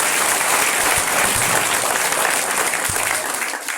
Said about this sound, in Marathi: अमोल भाऊसाठी खूप जोरात टाळ्या वाजवायच्या सर्वांनी